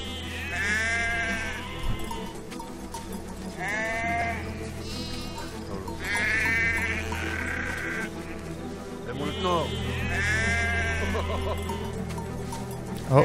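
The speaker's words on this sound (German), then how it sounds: "Oh, natürlich bewegen sich die Schafe direkt vor." Sheep bleat repeatedly in the video game Valiant Hearts, several wavering calls spaced a few seconds apart over a steady background music bed.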